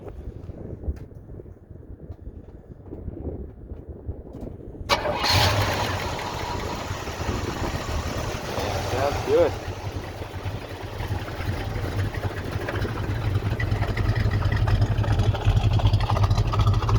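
Quiet at first, then a 1979 Pontiac Trans Am's engine, with a brand-new exhaust, cranks and catches around five seconds in and settles into a steady, rumbling idle; someone briefly speaks.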